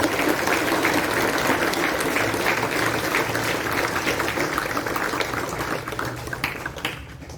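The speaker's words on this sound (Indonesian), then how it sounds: "Kita iring mereka dengan tepuk tangan yang meriah" Crowd applause at a school flag ceremony award presentation outdoors at SMA Pancasila Borong, a loud, continuous wash of clapping that thins slightly toward the end.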